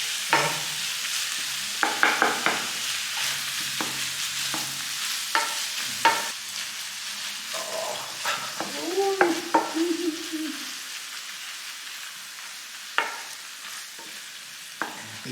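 Meat filling for taquitos stirred and frying in a pan, with a steady low sizzle under repeated scraping and knocking strokes of the spoon against the pan, fairly close and moderately loud, no talking.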